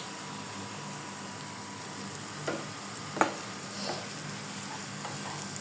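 Food frying in oil until red and crisp gives a steady, even sizzle with a few faint stirring scrapes and clicks, close but fairly quiet, with no talk.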